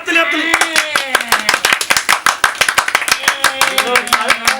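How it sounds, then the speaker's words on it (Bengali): Clapping at a birthday cake cutting, a quick loud run of hand claps from a small group close by, with singing and voices over the top. "হাততালি"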